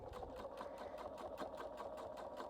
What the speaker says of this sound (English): I'm going to edge stitch the pocket and just go along each side